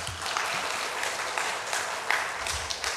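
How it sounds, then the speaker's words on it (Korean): A church congregation claps steadily at a Sunday service, a continuous wash of applause from many hands at moderate level with no one speaking over it. "박수 한번 주시겠습니까?"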